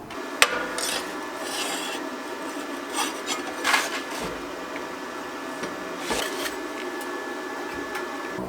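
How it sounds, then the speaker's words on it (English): Rasping, scraping strokes of a metal brace being cut at its edge for a brake master cylinder, a steady grinding texture broken by several sharper bursts, close and fairly quiet with no talk. "so I'll cut this edge off, I'll bend this side"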